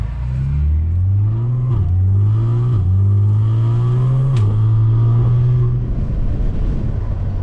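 A close-up Audi S4 with the 3.0T engine revs in a short pull, its exhaust raspy and rattly, the engine tone rising in steps with brief dips between them before it drops back to a rougher idle.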